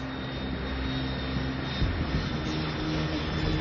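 An airplane flies with a steady, droning engine roar and a faint high whine, constant and moderately loud throughout.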